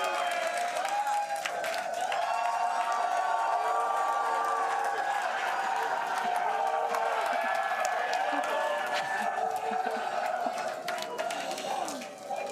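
A large crowd at a SpaceX Starship launch site before liftoff, many of them Raptor engine builders, gives off a steady roar of cheering and chatter that holds for the whole stretch, with talk mixed into the din.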